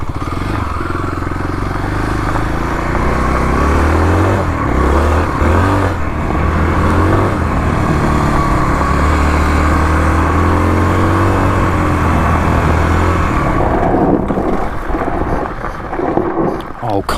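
A Kawasaki KLX351 dirt bike engine rumbles and revs off-road in loud, fluctuating surges that rise and drop for a sustained stretch, with wind buffeting the microphone and a sputter near the end.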